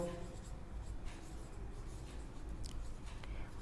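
Pen writing on paper while working a maths problem on polynomials, a steady soft scratching under low background hum, close and continuous with no voice over it.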